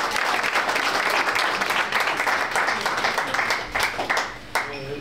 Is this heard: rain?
no